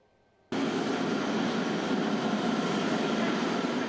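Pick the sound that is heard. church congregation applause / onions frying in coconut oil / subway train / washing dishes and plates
subway train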